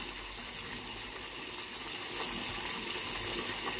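Hot water runs steadily from a kitchen tap, a continuous close, broadband rush with no pauses and no talking.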